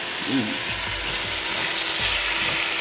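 Impossible Burger plant-based meat frying in a pan for lettuce wraps, a dense continuous sizzle with occasional stirring scrapes, loud and close.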